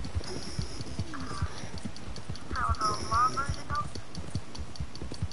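A horse gallops in a video game, rapid rhythmic hoofbeats running steadily throughout beneath a brief whinny-like tone and a voice talking over it.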